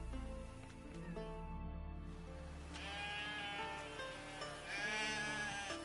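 Sheep in The Witcher 3 bleat several times, with wavering, drawn-out calls spaced across the stretch against a quiet game backdrop.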